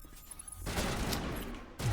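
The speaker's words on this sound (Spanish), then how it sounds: "Me asustaron a los tiros mis compañeros." Squad companions fire a rapid burst of guns during combat in the video game Mass Effect, crackling close and fairly loud for a moment before a short break and a fresh thump.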